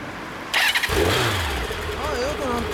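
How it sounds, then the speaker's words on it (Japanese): A Kawasaki Zephyr 750 Final Edition motorcycle cranks and fires up abruptly, then settles into a loud, steady idle close by, with people talking over the engine. "次エンジン音を聞かせてください。"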